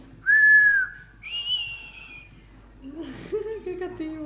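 A person whistles a few clear sustained notes, first lower then higher, alone and fairly loud, followed by softer murmuring vocal sounds.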